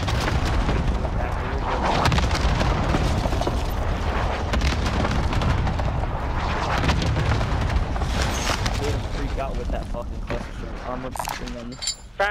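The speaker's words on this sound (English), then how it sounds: "I put a cluster on it." Cluster strike explosions in Call of Duty Warzone, a loud rolling series of booms and gunfire crackling through most of the stretch, with players talking over the blasts before it thins out near the end.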